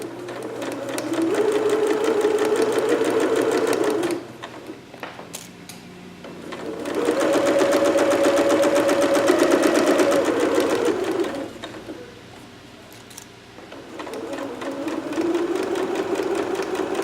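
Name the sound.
sewing machine stitching a dart with back stitching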